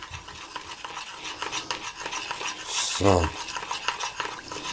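White cabbage and tofu stirred in a pan, close scraping and rubbing strokes of a utensil with light clinks against the metal, a brief louder scrape midway, and a short spoken word.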